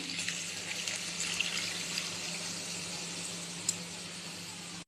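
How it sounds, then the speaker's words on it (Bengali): Water is poured into a pan of cooked yogurt chicken, giving a steady, close splashing rush that runs unbroken for several seconds with no voices. "মাংসটা কষানো হয়ে গেছে, এবার জল দিয়ে দিই।"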